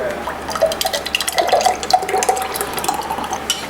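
Mango milkshake with ice being poured into a glass, a close, moderately loud liquid splashing and gurgling with small clinks and drips throughout.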